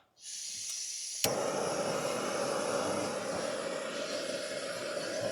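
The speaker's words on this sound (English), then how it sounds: "Get the stove turned on." A steady, close roaring hiss of a camping gas stove burner that ignites with a click and then burns continuously.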